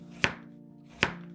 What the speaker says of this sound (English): First, cut the pumpkin into large pieces and set them aside.